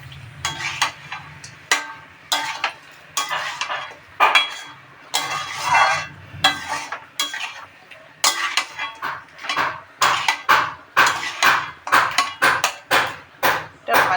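Meat being stirred and fried in a pot for biryani, with a metal spoon scraping and clanking against the pot in repeated, fairly loud strokes that get quicker toward the end.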